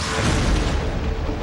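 An explosion at a small office, heard as a loud, deep boom with a heavy rumble that holds for over a second and has no voices over it.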